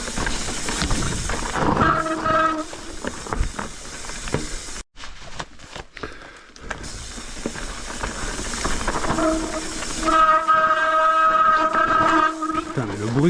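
Bicycle brakes squealing during a wet ride in the rain near Les Arcs-sur-Argens, sustained harsh tonal screeches over road hiss, loud and close, with a gap in the middle before the squeal returns stronger.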